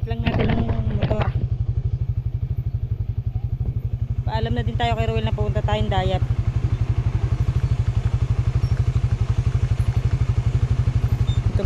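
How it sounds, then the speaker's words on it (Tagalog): A motorcycle idles while warming up before a trip, its close, steady putter pulsing evenly throughout as someone talks over it with some clatter in between. "pinaiinit lang natin ang motor"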